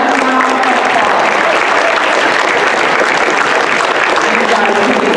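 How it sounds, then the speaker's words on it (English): A school audience claps loudly and continuously at a student awards assembly, with cheering voices mixed into the steady, dense applause throughout. "Let's give them all one round of applause."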